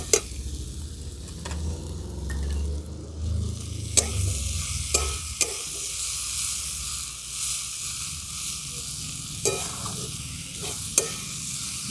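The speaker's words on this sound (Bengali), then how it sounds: "শামুকটা দিয়ে সমস্ত সবজিগুলোর সঙ্গে ভালো করে ভাজা ভাজা করে নিয়েছি" Snails fry with vegetables and mustard paste in a pan, a steady close sizzle broken by sharp scrapes and knocks of stirring, with no talk over it.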